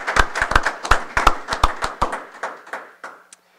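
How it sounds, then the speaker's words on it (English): A small audience claps for students at a school board meeting, a sparse run of sharp individual claps that thins out and fades within a few seconds, with no one speaking. "round of applause for those students"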